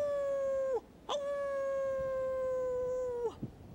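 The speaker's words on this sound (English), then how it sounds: "These wolves howl to tell each other where they are." Arctic wolves howling in two long, clear, steady notes, each trailing downward at the end, with a short yelping rise between them, sounding close and unaccompanied.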